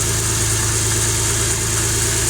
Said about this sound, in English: now that we got the vehicle on, you see that it's running